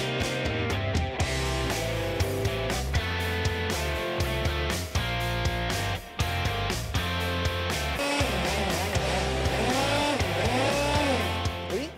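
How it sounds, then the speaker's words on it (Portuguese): A kart engine accelerates and holds a loud, buzzing whine nearby, its pitch rising and dipping through several brief throttle lifts. "por que fica acelerando tanto esse carro agora?"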